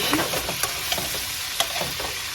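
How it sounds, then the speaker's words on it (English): Fish fries in a pan for an eggplant sauce, with a dense, steady sizzle and crackle broken by a few sharper pops and stirring taps. "Fry the fish"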